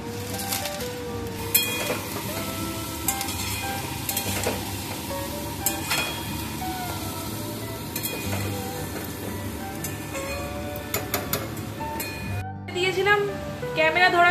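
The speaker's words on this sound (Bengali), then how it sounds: "এবার আমি এর মধ্যে চাউমিনটা দিয়ে দেবো।" Chow mein noodles are tossed and stir-fried with winter vegetables in a hot pan, giving a steady sizzle with repeated scraping and clinking of the utensil. Near the end someone is talking.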